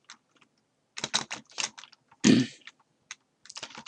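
Typing on a computer keyboard, with quick clusters of close key taps and one louder, heavier keystroke in the middle, between brief silences.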